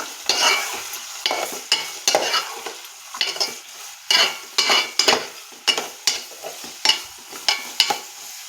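A mango and dried fenugreek curry is stirred in a pan, a spoon scraping and sloshing through it in rhythmic bursts roughly twice a second over a low sizzle, close and clear.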